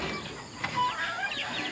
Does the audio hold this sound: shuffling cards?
no